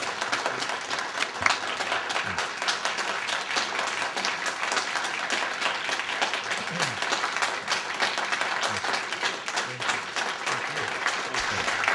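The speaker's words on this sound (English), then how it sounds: "He's getting a lot of applause, isn't he?" Standing ovation from an audience in a theater in Ashland, Wisconsin: sustained dense applause from a large crowd, steady and loud throughout, with faint voices mixed in.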